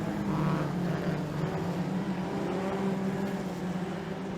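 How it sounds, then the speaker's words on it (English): Race cars on a clay speedway track at a National 4's title meeting in Kingaroy: a steady, continuous engine roar at moderate distance, with a sustained low drone and no talk. "Drifts right out of line, allowing the car 27 also of Josh Rigby to get by down the main straight."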